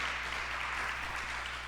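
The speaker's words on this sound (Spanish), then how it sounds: "Le da un aplauso, pero para Él, no para mí." Church congregation applauding together, a steady dense wash of clapping held at an even level throughout, with no voices over it.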